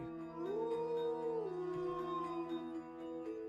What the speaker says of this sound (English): The voice of the dog resounds in my ears.